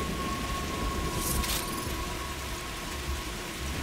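Steady rain pours in the VR game Stormland, a dense continuous hiss with a brief brighter crackle partway through.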